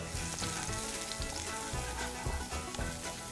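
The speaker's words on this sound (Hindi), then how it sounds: "ऑयल गर्म हो गया, इसमें हम डालेंगे चॉप जिंजर और चॉप गार्लिक।" Chopped ginger and garlic hitting hot oil give a dense, crackling sizzle with scattered pops and stirring knocks, fairly quiet overall.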